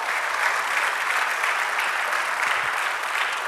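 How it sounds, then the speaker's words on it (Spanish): A church congregation applauds the Lord in a steady, dense wash of clapping that holds at an even, loud level throughout, with no talk over it. "Dale un aplauso al Señor"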